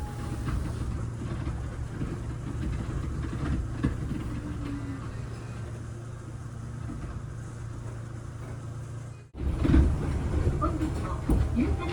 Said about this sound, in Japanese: 列車は中学校駅に到着